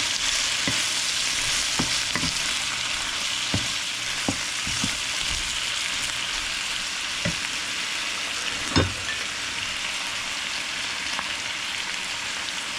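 Shrimp sizzling in a pan with lightly browned sautéed garlic: a steady, loud hiss of frying that runs throughout, with scattered pops and occasional scrapes of stirring.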